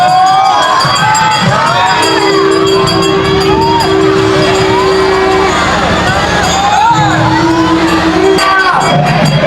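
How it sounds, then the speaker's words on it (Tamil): Devotees chant Arohara together while pulling a large temple festival chariot through a crowd in Jaffna, a loud continuous mass of shouting voices with sustained tones rising over the throng. "அரோஹரா அரோஹரான்னு சொல்லி எங்களுடைய பக்தர்கள் எல்லாருமே பக்தி பூர்வமாக இந்த மஞ்சத்தை இழுத்து கொண்டிருக்கிறார்கள்"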